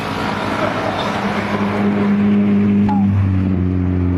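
A car passes by on a bypass road, its engine hum swelling and holding loud and close with a tonal drone, then easing slightly as it goes by.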